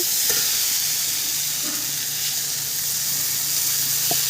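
Broth goes into a pan of vegetables for soybean muthia, producing a loud, continuous sizzle and hiss with faint stirring scrapes, close up and steady throughout.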